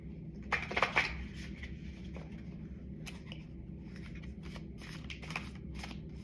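Soft, quick riffling of tarot cards shuffled in the hands in a quiet room, a brief louder flurry early on, then scattered light taps and slides over a low background hum.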